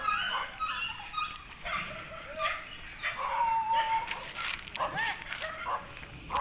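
Several dogs bark and yip at a rural farm, scattered sharp barks at moderate distance, with people talking over them.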